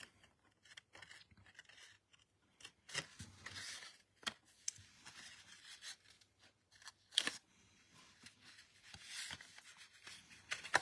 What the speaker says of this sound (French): Donc on va couper les petits carrés qui n'ont pas été sur la bande de colle.